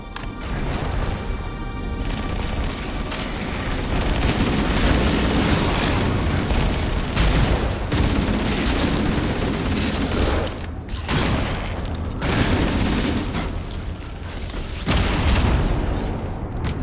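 A pulse generator overloads and blows apart in the Halo campaign, a sustained roar of crashing blasts and booming explosions with bursts of debris, loud and dense throughout with no gaps.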